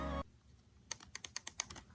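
Small loose screws rattling on a Canon G7X compact camera, a quick run of about eight light, sharp clicks and ticks close to the microphone after a brief burst of noise.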